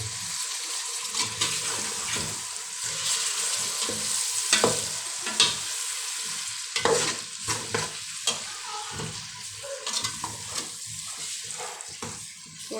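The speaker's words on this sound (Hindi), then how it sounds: "थोड़ा सा पानी डाल देंगे।" Chicken and potato curry sizzles in a pan while a spoon scrapes and stirs it in irregular bursts, with a splash of water poured in adding a brief hiss amid the frying.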